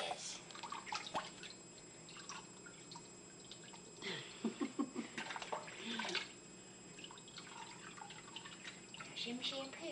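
Water pours and drips steadily, close by, while a pet dog is bathed, with soft splashes and trickles running throughout and people talking quietly over the water.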